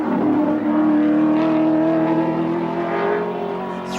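A touring race car engine holds a loud, sustained tone while accelerating through a sharp right-hand corner at GTX Bend in a race, the pitch climbing slightly, heard alone and close.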